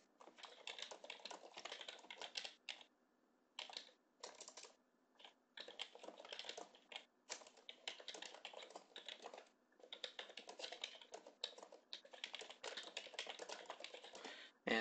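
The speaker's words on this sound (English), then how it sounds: "and type some more in the third line. And then I'll type again." Fingers type on a computer keyboard in several bursts of rapid, close key clicks separated by short pauses, steady and clear with no talking.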